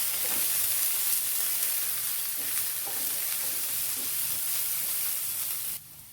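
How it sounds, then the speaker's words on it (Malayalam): Chopped onion, green chillies and curry leaves sautéing in a pan for tomato theeyal, a steady close sizzle with faint stirring scrapes, dropping quieter at the very end. "ഒരു തണ്ട് കറിവേപ്പിലയും കൊണ്ട് ഇട്ട് കൊടുത്ത് നല്ലതായിട്ടൊന്ന് വഴറ്റിയെടുക്കാം."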